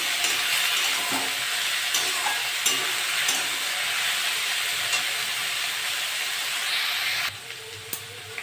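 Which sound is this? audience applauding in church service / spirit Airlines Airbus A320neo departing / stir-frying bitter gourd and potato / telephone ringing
stir-frying bitter gourd and potato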